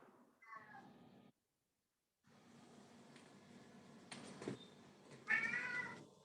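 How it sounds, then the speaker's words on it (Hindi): A cat meows several times indoors, short rising cries separated by pauses, with one louder, drawn-out meow near the end. "मेरी बिल्ली थोड़ी आवाजें करे"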